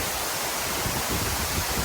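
Waterfall in South Cumberland State Park, Tennessee, in winter, a dense, steady roar of falling water filling the whole clip, loud and unbroken with no voices.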